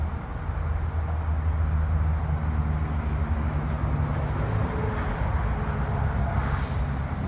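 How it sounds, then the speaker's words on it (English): A truck rumbles past outside during an indoor tuning-fork sound bath, a steady low engine drone that fills the whole stretch evenly, with a faint sustained low hum alongside it. "The truck just went past, so we'll try that one again just in case you can hear it."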